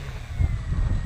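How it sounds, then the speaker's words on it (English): Gusty wind buffets the microphone at an RC model airfield, a low, rumbling roar that swells and pulses throughout with no clear voices. "Oh, that wind, man, that wind."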